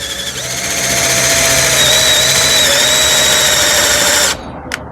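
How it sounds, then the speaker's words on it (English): A cordless drill from a 177-piece tool set whirs at close range, a loud steady motor whine that rises slightly in pitch for about four seconds before cutting off sharply, followed by a brief click. "Now I'm ready to drill."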